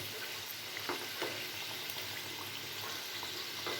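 Gujiya frying in a pan over low to medium gas and being stirred, heard as a faint, steady sizzle with a few soft stirring knocks.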